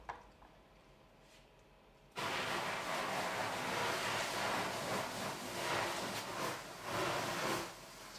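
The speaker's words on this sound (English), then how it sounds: "Then you spray water." A sudden, steady hiss of water spraying into a hot oven holding sourdough baguettes, starting after a quiet moment and continuing for several seconds, fairly close.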